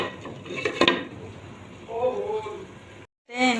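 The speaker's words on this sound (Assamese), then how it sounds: "অলপ পানী দিম। অলপ ঢাকনি মাৰি দিছোঁ।" A lid is set onto a pot of egg curry with a quick metallic clank early on, followed by a voice talking over the quiet kitchen.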